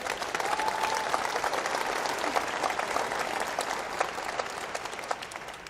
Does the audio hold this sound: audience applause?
yes